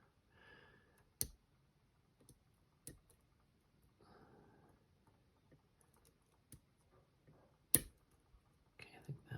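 Tools picking a Miwa DS wafer lock give sparse, faint clicks spread through a quiet stretch, some sharp and isolated, with soft rustling handling noise between them.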